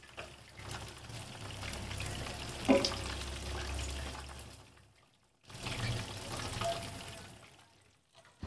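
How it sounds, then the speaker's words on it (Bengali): A whole chicken fries in hot oil, giving a steady close sizzle with a short clatter near the middle, a brief quiet gap, and then more sizzling. "তবে আমার চিকেন ফ্রাই গুলা ভাজা হয়ে গেছে।"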